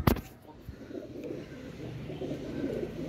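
Soft, low pigeon coos murmur continuously after a brief sharp knock at the start, with faint rustling in the background, in a pigeon-keeping setting.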